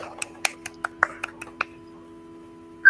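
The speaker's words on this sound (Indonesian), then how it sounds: "Tepuk tangan dulu kita semua" A classroom group claps hands in a short, scattered burst of about nine sharp claps over a second and a half, followed by quiet room hum.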